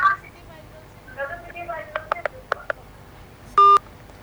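A telephone line on a call-in TV show gives a series of short dial tones and beeps after the caller disconnects, then one longer steady tone, with a presenter speaking before them.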